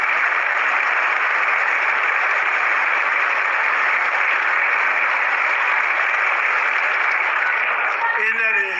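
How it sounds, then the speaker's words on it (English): An audience claps continuously in a dense, even wash of applause that holds steady throughout, with a brief faint voice near the end. "They still clapping."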